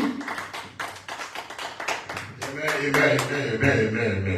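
Congregation clapping during a church service, a dense run of hand claps filling the space, with singing or voices rising underneath as the applause swells toward the end.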